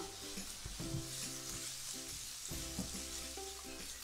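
Peppers frying together in a pan over medium heat for shakshuka, a steady soft sizzle with occasional stirring scrapes and clinks, no voices.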